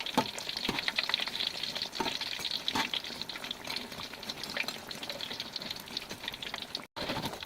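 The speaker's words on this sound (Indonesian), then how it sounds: "Goreng di minyak panas dengan api sedang." Breaded eggplant frying in hot oil over medium heat, a steady close crackling sizzle with scattered sharper pops, heard alone without talk.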